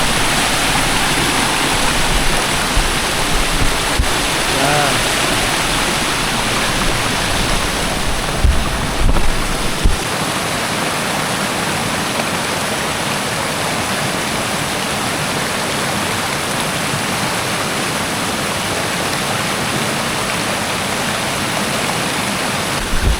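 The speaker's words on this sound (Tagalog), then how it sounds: "nandito tayo sa mini dam na napakalakas ng tubig dito" Water rushes loudly and continuously over a mini dam on a farm, a dense, unbroken roar close to the microphone with some wind buffeting and no talking.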